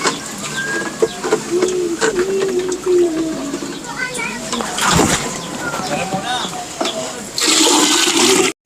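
Fast-flowing clean water at Tinambak rushes into a container, a steady splashing hiss running throughout with louder surges near the end, while people talk over it.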